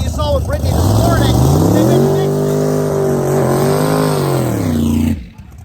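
Race car making its second pass in B group, a loud, close engine with a held, slightly wavering pitch that roars steadily past, then cuts off abruptly near the end.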